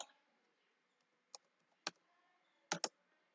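A few scattered clicks of computer keyboard keys sound quietly and close in an otherwise hushed room, irregular single taps then a quick double tap.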